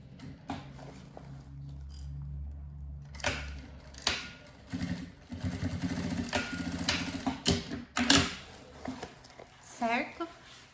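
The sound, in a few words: sewing machine stitching a seam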